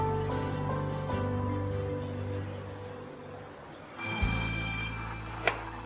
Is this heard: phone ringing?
yes